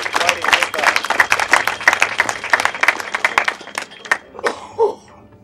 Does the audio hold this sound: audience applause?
yes